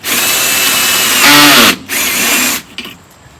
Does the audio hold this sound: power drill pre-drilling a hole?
yes